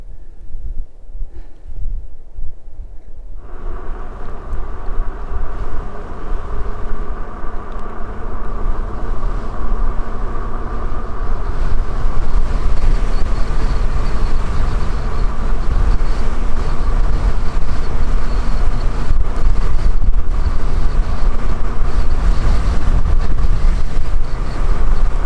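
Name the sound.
wind blowing on a mountain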